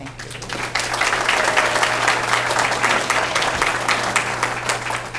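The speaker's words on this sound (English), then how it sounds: "It might go a little faster if we held our applause till the end, maybe." The audience at a community meeting about a county school system claps in sustained, dense applause from a large room. The clapping stays loud and even throughout, with a low steady hum underneath.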